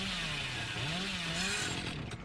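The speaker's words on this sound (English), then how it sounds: "Still don't know how to use the chainsaw," A chainsaw revs in the horror video game Dead by Daylight, its engine droning steadily and rising and falling in pitch. The whine is continuous and fairly quiet, with no talk over it.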